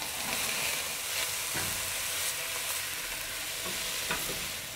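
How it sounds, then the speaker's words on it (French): Sautéed mushrooms, garlic and caramelised onion being stirred in a frying pan, with a soft continuous sizzle and a few scraping strokes of the utensil, moderately close and without talk. "Et on mélange."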